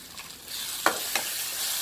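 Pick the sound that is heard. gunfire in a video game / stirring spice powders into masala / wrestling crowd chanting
stirring spice powders into masala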